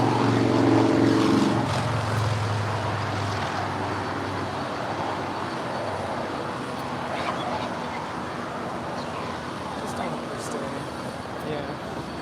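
A Condor 767-300ER airliner arriving from Frankfurt at LAX makes a steady, broad jet roar at moderate distance, with a low tone fading early, under ongoing talk.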